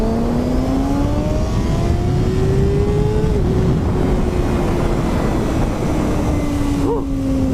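A 2020 Kawasaki Ninja 636 with its stock exhaust revs hard and close, the engine note climbing and falling in long sweeping pitches, loud and sustained throughout.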